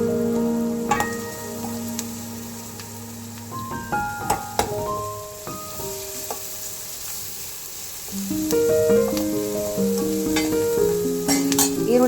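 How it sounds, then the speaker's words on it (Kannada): Onions frying with coriander, curry leaves and spices in a pan for zunka vadi, with a steady sizzle, a few scattered stirring clinks and scrapes, and the sizzle growing louder toward the end. "ಚೆನ್ನಾಗಿ ಇದು ಫ್ರೈ ಆಗಬೇಕು ಈರುಳ್ಳಿ."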